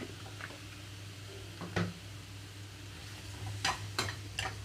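Bottle gourd pieces go into hot oil in a pan, giving a low, quiet sizzle under a steady hum, with a few sharp clatters and scrapes of stirring.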